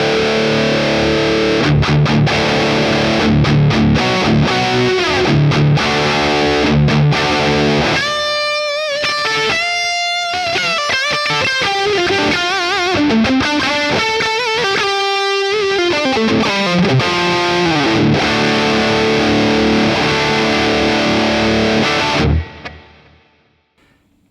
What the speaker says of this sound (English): with a Tube Screamer, you do get a little bit of the guitar, the clean guitar signal coming through.